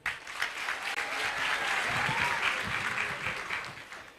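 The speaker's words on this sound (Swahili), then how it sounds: "Makofi." Audience clapping at the commissioning of a dormitory and multipurpose hall, a dense sustained round of applause from a crowd that rises quickly and holds steady for several seconds.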